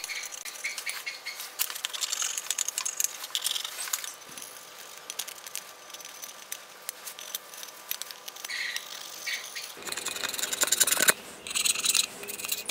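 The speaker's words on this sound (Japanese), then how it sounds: "ワイヤーブラシは、これくらいにしておきましょう。" Wire brush scrubbing rust off the steel rear carrier of a Honda Super Cub 90 by hand, a steady close scratchy rasping that runs throughout with brief pauses and a harder burst of strokes near the end, no voices.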